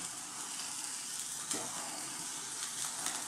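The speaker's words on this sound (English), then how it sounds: "we're just going to kind of slightly give these a little cook on our gas flame" Tandoori chicken pieces cooking over an open gas flame, heard as a steady, faint hiss and sizzle with a few brief crackles and no talking.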